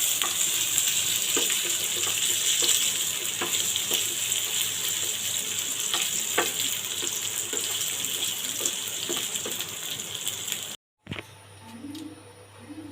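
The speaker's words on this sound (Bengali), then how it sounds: "আলুগুলোকে আমি একটু উল্টো পাল্টে দিই।" Potatoes frying in a pan give off a dense, steady sizzle, with occasional soft knocks as they are turned over, before the sound cuts off abruptly near the end.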